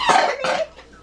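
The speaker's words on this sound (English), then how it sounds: "You're still coughing?" Two harsh coughs in quick succession, close and fairly loud, with a fainter third sound trailing off, in a home setting.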